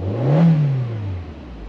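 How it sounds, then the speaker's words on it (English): A cold engine in a salvaged car at a Copart lot revs once, loud and close, its pitch rising then sinking back toward idle within a second or so. "I don't mean to rev a cold engine"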